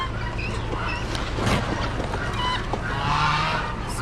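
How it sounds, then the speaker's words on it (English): Guinea fowl call among other poultry at an Amish animal auction, a busy, continuous barn clamor of honks and squawks overlapping at mid distance. "Some guineas."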